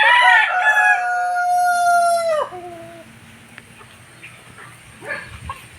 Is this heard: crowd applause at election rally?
no